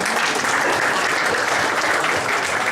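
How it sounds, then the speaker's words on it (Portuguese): A forum audience applauds a presenting group, a dense, steady wash of many hands clapping at close range without a pause. "Parabéns para o grupo, nosso aplauso"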